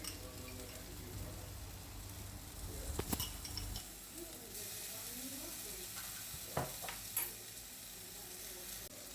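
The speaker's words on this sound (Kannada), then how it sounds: "ಈಗ ಇದನ್ನು ಸರಿಯಾಗಿ ಮಿಕ್ಸ್ ಮಾಡುವ. ನೋಡಿ, ಒಂದು 5 ನಿಮಿಷ ಇದನ್ನು ಈ ರೀತಿಯೇ ಫ್ರೈ ಮಾಡಬೇಕು." Schezwan egg masala with Schezwan chutney sauce is stirred and fried in a pan, with a steady close sizzle broken by a few clinks of a spoon scraping the pan.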